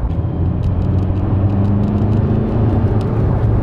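A reprogrammed VW Golf IV accelerates in fourth gear, its engine drone loud and steady with a low rumbling hum throughout, heard from inside the car.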